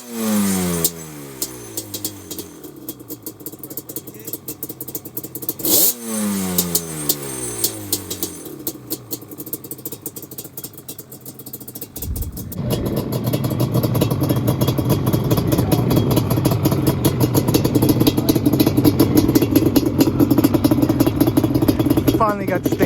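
A Yamaha Banshee two-stroke ATV engine cranks over twice in short sputtering bursts, then catches and runs loud and close, revving steadily at test and tune at Trophy Club.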